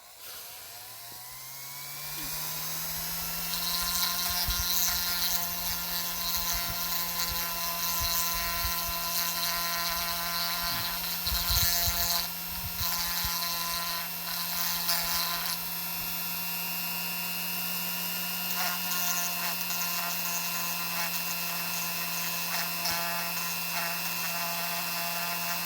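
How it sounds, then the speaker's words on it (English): A power tool sands a 3D printed Lego Bionicle mask, giving a steady high-pitched whine that winds up after a couple of seconds and runs loud and continuous, with brief rougher bursts where it bites the plastic. "Now comes the difficult part, which is trying to sand all that out."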